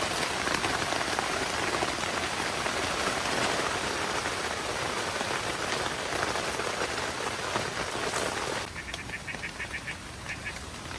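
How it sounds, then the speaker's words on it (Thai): Steady, dense rain pours down with a constant hiss, easing slightly near the end as a few faint chirping calls appear. "ตอนนี้ฝนตกครับ"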